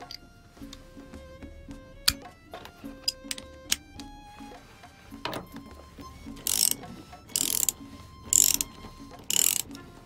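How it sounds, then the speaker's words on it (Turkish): A socket wrench ratchets in quick clicking bursts while loosening seat belt bolts in a VW T5 van during an interior refit, with short pauses and a few sharper rattling bursts nearby. "Bu işlemi lokma takımı kullanarak yapıyorum."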